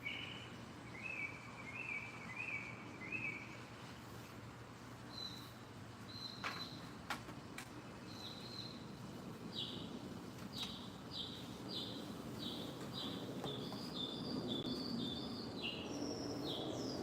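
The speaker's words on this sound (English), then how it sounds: "Anybody know that sound, that bird?" Bird song outdoors: repeated short high chirping phrases, fairly faint and distant, recurring throughout over a steady low background hum with a few clicks.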